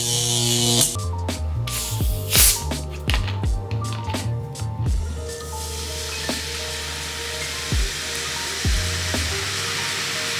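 Sprite soda poured over scraped bitter melon rings in a large bowl gives a fizzing, crackling hiss that builds midway and carries on, with background music playing over and under it.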